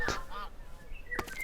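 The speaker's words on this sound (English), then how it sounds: "some wild geese who were interested in our work here" Wild geese honking in Minecraft, two or three short nasal honks close by within a second and a half, standing alone over quiet game ambience.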